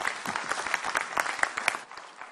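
Conference audience clapping as a speaker walks up to the stage, a brief burst of moderately loud applause with irregular individual claps, fading slightly at the end.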